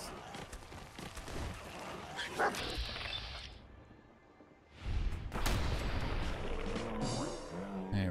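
Dogmeat, the dog companion in Fallout 4, barking and whimpering in short yips amid game ambience, loud and close, with a quieter lull in the middle before the noise returns, someone talking at times.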